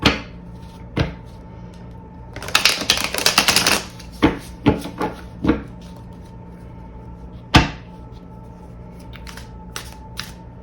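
Tarot cards being shuffled by hand give a brief flurry of riffling, followed by scattered sharp taps and flicks as the deck is squared and cut, close up in a quiet room.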